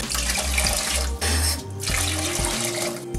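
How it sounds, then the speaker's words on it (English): Cold water poured from a mug over rice in a cooking pot for fish pulav, a loud, close gushing splash that pauses briefly and then resumes for a few seconds. "because it's 2 mugs of rice, we put about 4 mugs of water in it."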